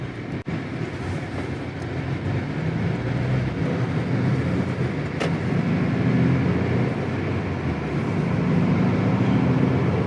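A 2018 Porsche 911 Carrera with PDK gearbox (991 generation) on the road, heard from inside as a steady, loud low engine and road rumble with a brief knock near the start, no talking.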